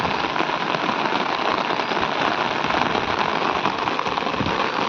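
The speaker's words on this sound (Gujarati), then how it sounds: "અમારા ગામમાં અત્યારે જોરદાર વરસાદ ચાલુ છે." Heavy rain pouring down in a village during the night, a dense, even hiss of drops beating on surfaces, loud and continuous with no voices.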